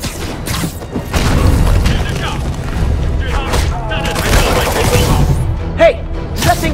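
Explosions in Marvel's Spider-Man Remastered during an active bomb situation near the meatpacking district: booming blasts and crashing impacts rumble in a dense, loud game mix, with a voice briefly heard amid the action.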